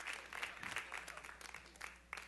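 A church congregation applauding during a televised sermon: dense, steady clapping fills the whole stretch, fairly loud and close, with a few sharper claps standing out near the end.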